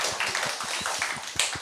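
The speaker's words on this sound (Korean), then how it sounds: "윤정은 작가님께 박수 한번 부탁드리겠습니다" Audience at a book concert clapping for an author, a brief patter of hand claps heard fairly faintly against the room's background.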